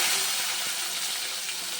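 Green chillies fry in hot oil, a dense, even sizzle that stays close and loud throughout with no voices over it.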